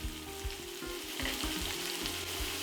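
Onions and peppers frying in a pan ahead of seared beef liver, giving a continuous close sizzle with soft stirring knocks and no voices.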